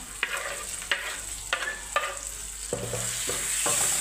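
Drumstick (moringa) dry vegetable with curry leaves is stirred and mixed in a hot pan, giving a steady sizzle broken by a run of sharp, evenly spaced scraping strokes close by, with no talking.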